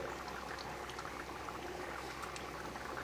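A pot of chicken mince ghugni simmers quietly, its soft, steady bubbling heard faintly and close with no voices over it.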